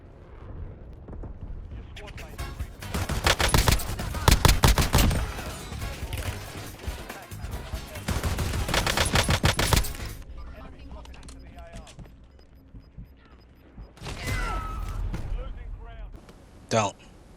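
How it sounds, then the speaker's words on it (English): Akimbo full-auto shotguns blasting in Warzone, Black Ops 7: loud, rapid bursts of booming shots in several long volleys with short gaps, ending in a few scattered blasts, with someone talking over parts of it. "let's see what these shotguns can do over inside of Warzone"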